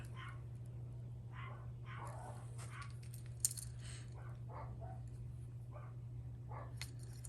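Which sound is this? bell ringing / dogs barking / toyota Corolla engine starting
dogs barking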